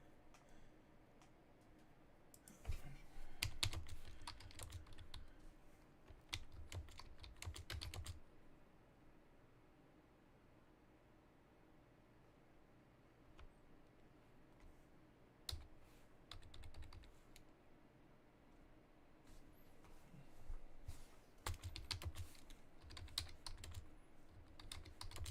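Computer keyboard keys clatter in quick bursts during a coding session, with dense runs of typing separated by quieter pauses of low room hum, close and moderately soft, no voices over it.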